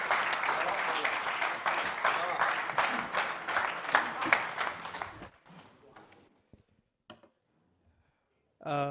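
Loud audience applause fills a Hindi poetry gathering (kavi sammelan) for about five seconds, then fades to near silence with a few faint noises before a voice briefly starts at the end.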